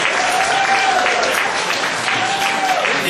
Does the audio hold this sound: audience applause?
yes